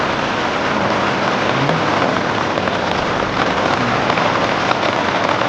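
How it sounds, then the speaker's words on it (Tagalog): Rain pours down as a dense, steady outdoor hiss, loud and close, with no voices heard. "Pinag-ulan tayo dito."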